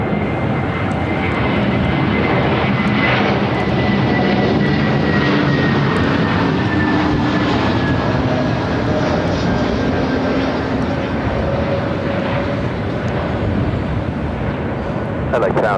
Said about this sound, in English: It's a United A321 Neo next arrival.